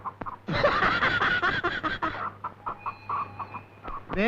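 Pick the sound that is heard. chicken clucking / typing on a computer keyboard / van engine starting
chicken clucking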